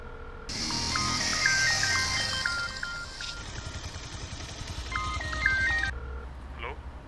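A telephone ringback tone repeats in short stepped beeps during an outgoing call, heard over steady traffic noise with a passing motorbike-like drone and some background voices.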